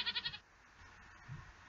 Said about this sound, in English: I'm not sure whether that was a goat or a sheep.